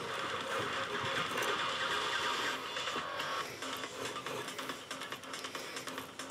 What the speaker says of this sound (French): on vrille le fil de cuivre au maximum